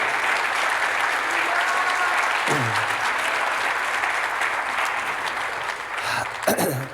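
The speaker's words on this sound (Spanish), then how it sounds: "Dale el mejor aplauso a Él." A church congregation applauding during a Sunday service, steady, dense clapping sustained for several seconds, with a voice cutting in briefly near the end.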